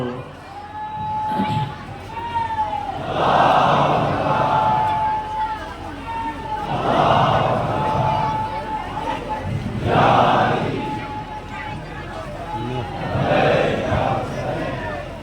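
A large crowd at a religious gathering shouts takbir in unison, four loud collective roars arriving at roughly regular intervals, with a sustained voice and murmuring between them.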